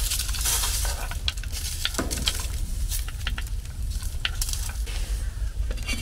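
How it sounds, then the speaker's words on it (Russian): Potatoes and mushrooms go into a soup pot on a wood stove inside a heated winter fishing tent, with steady stirring, sizzling and bubbling plus scattered clinks of a utensil against the pot, close and continuous without speech. "Теперь я добавлю в него картошку и грибы"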